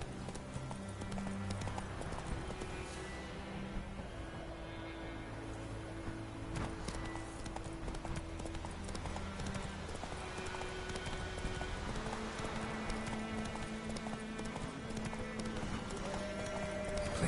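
Galloping horse hooves in the video game The Witcher 3, a steady rapid clip-clop carried over layered game music and ambience, with a brief whinny and some speech in the mix.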